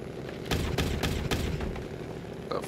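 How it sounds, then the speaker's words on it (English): Concrete blocks being loaded onto a truck in the SnowRunner trucking game, heard as a series of four or five heavy banging thuds in quick succession over a steady engine drone, with one more knock at the end. "That was me loading the concrete blocks for treatment's facility."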